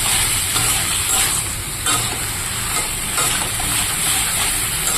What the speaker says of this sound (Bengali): এবার ভালো করে নাড়াচাড়া করে দেবো এই লাউ তরকারিটার মধ্যে